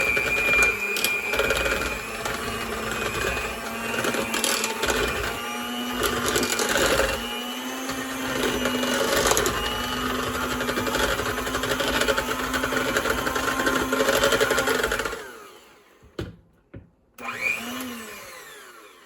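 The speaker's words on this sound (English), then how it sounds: "Next, we're going to go ahead and mash up our sweet potatoes." An electric mixer whirs steadily for about fifteen seconds while mashing sweet potatoes, with a droning, slightly varying motor tone, then cuts off and leaves a few brief clunks and a short squeal.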